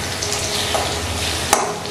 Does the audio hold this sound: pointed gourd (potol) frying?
yes